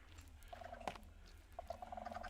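Minecraft chickens cluck in a game, with a few short, repeated clucks and soft chirps sounding close over a low steady hum, with no talk.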